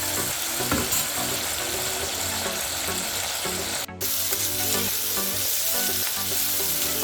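Tomatoes sizzle loudly in a pan after a splash of hot water goes in, a dense, even frying hiss with scraping stirs and a brief dropout midway.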